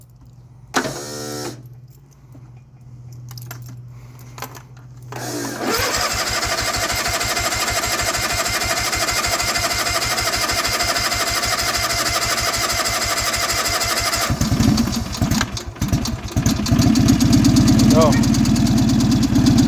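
A Yard Pro lawn tractor engine cold-starts after sitting over a month: starter cranking and sputtering attempts, then the small engine catches and settles into a steady, close idle that revs up near the end, with a brief voice.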